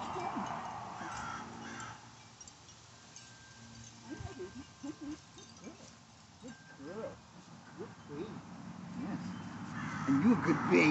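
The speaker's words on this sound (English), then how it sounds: "Look at him yelling at me, that crow up there." A crow caws from up in a tree outdoors, a few harsh calls mixed in with a person talking nearby and soft background noise.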